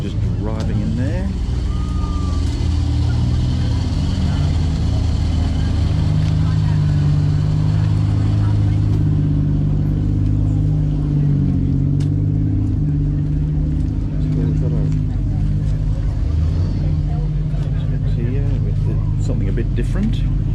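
A classic car, said to carry a 5.7 litre V8, rolls into an outdoor classic car show, its engine a low, steady rumble beneath nearly continuous nearby chatter and crowd noise.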